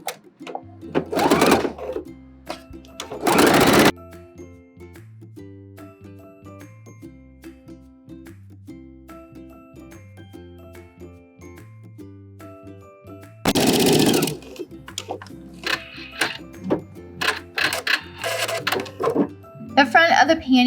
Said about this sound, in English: We are gonna start sewing